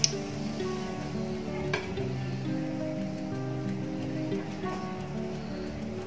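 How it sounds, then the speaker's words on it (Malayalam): Bread egg puffs fry in plenty of hot oil in a pan, giving a steady, close sizzle that runs throughout under soft background music, with no talking. "നമ്മൾ ഇട്ടൊന്ന് ജസ്റ്റ് ഒന്ന് ഫ്രൈ ചെയ്യാം."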